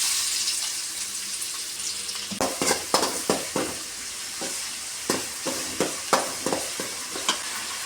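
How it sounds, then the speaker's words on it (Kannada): Sliced onions frying in hot oil in a pan for chicken fried rice, giving a steady sizzle with repeated sharp scraping stir strokes, clustered in bursts, close and moderately loud. "ಎಣ್ಣೆ ಕಾದಿದೆ, ಈರುಳ್ಳಿ ಹಾಕ್ತಾ ಇದ್ದೀನಿ"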